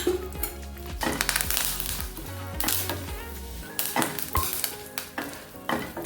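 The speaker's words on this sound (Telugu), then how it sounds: "ఇందులోకి 10 ఎండుమిరపకాయలు, 2 రెబ్బల కరివేపాకు వేసుకొని 1 టీ స్పూన్ ఆయిల్ వేసి వీటిని వేపుకోవాలి" Ten dried red chillies and two sprigs of curry leaves fry in a teaspoon of oil for idli podi, with loud sizzling and spatula scraping and clattering against the pan in uneven bursts, no talking.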